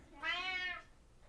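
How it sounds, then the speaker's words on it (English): A pet cat meows once, a clear, drawn-out call lasting about half a second, close by and alone in a quiet room. "You may hear my cat meowing."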